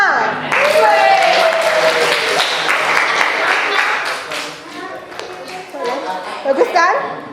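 Schoolchildren in a classroom burst into dense, lively applause for a classmate, loud at first and then tapering off, with a teacher's voice and children's chatter mixed in.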